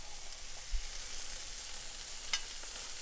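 Chorizo balls frying on a griddle give a faint, steady hiss of sizzling fat, with a soft bump and a brief crackle breaking the quiet, even wash of sound.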